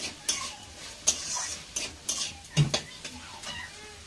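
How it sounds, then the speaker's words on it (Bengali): Vegetables stir-fried with salt and turmeric, a spatula scraping and clinking against the pan in irregular strokes over a soft, steady sizzle, close and with no talking. "একটু ভালো করে নেড়ে নেব।"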